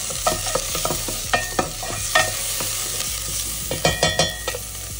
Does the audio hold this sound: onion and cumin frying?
yes